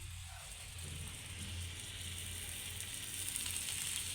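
Pav bhaji masala fries in butter in a pan with a steady, gentle sizzle that stays even throughout at a soft, close-up level.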